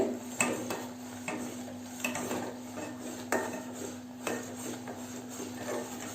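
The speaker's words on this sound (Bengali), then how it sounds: "তো এভাবে জাল করে নিতে হবে আর অনবরত নাড়তেই হবে।" A spatula scrapes and taps against a pan while milk thickens for sandesh, giving a series of close metallic clinks and scrapes in an irregular rhythm over a steady low hum.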